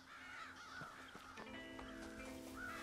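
Crows caw repeatedly in Red Dead Redemption, several harsh calls spread across a steady outdoor ambience, fairly close and clear with no talking.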